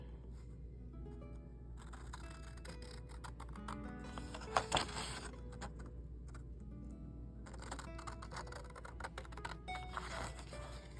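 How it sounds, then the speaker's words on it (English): Scissors snip through paper close by, quiet crisp cuts in short bursts separated by pauses. "And then cut this out with my scissors."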